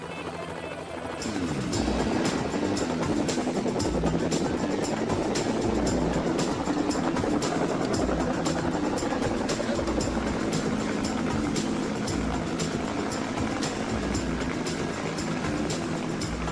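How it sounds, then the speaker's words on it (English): Helicopter rotor chop of a firefighting helicopter in flight begins abruptly, then drones loudly and steadily with rapid rhythmic beating and engine whine throughout. "A helicopter is an unforgiving vehicle to fly in the best conditions."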